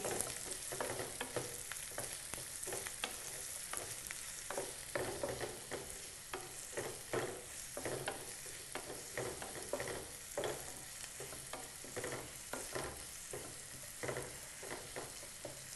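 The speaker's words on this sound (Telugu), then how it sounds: "కట్ చేసి పెట్టుకున్న ఆనియన్స్ వేసుకోవాలి వేసి బ్రౌన్ కలర్ వచ్చే వరకు మగ్గనివ్వాలి" Chopped onions and green chilies fry in a pan for masala prawns, a continuous soft sizzle broken by frequent spatula scrapes and stirring clacks, steady and fairly quiet with no voices.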